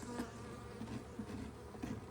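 Honeybees buzz continuously at close range, a low droning hum with individual bees rising and fading as they fly past.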